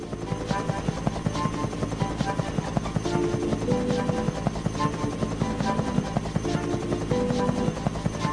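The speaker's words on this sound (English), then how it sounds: "There's a biplane flying near you." A propeller biplane drones overhead in a Thomas and Friends railway adventure video game, a steady buzzing, chopping engine hum that holds loud and continuous over faint in-game music.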